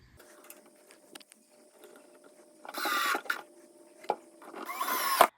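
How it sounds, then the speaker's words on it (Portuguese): Screwing a metal corner bracket onto a shelf panel while assembling a wall-hung kitchen cabinet, with two bursts of power-driver whirring and light knocks and taps between them, close and moderately loud. "nós vamos fixar a cantoneira com o parafuso D na prateleira 17 com a coluna"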